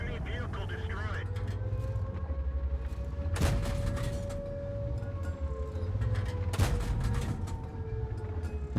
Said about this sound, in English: That was the SU firing back.